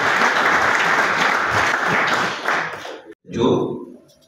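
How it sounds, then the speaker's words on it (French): A crowd applauds loudly and steadily for a few seconds, the clapping tapering off before a voice starts speaking. "Veuillons applaudir pour notre vétéran."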